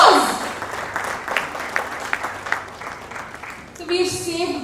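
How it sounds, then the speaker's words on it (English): An audience at a business entrepreneurship conclave applauds a speaker with a scattered, moderate round of clapping, while voices talk at the start and end. "Let's give him a big round of applause."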